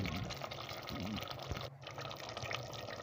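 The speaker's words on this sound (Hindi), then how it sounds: "अब मैं इसमें डाल रही हूँ पानी।" Water is poured into a cooking pot for an aloo murgh curry, a soft continuous splashing pour under a voice.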